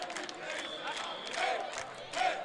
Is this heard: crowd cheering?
yes